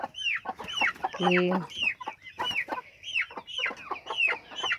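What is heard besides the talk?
chickens clucking in a henhouse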